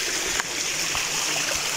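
Flowing stream at Tagpuang Batis, near Mount Parawagan, a steady broadband rush of running water filling the short stretch at even loudness, with no voices.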